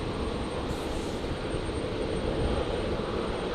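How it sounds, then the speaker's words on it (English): Virgin Boeing 737-700 airliner taxiing past at Brisbane Airport, a continuous, loud jet engine roar and whine that holds steady and close, with no voices over it. "Just spotted a Virgin 73700 taxiing on past us here."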